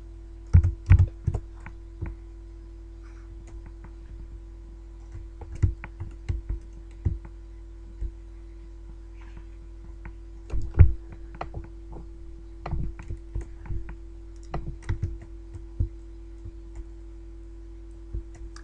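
Computer keyboard keys clicking in irregular bursts as a Transformice chat command is typed, close and fairly crisp over a steady low hum, with short pauses between flurries of keystrokes.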